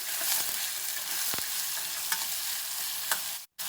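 Sambar ingredients fry and sizzle in a pan with salt added, a steady hiss with a few scraping stirs of a spoon, ending in a brief silence.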